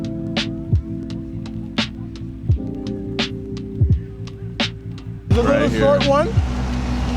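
A Mazda at a car meet, its engine held at a steady throbbing idle punctuated by short rhythmic pulses, then a louder rev near the end, while someone talks over it.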